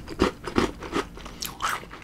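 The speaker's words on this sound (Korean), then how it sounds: "이거 안에 이거 다이제볼이 뭐 완전 더 바삭바삭해졌어요" Chocolate-coated Digestive balls soaked in cold milk are bitten and crunched up close, giving three sharp crisp bites followed by a couple of softer chewing crunches.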